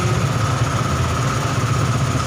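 A long-used motorcycle engine idles steadily and loudly after a fuel pump replacement, with a continuous low rumble and no speech.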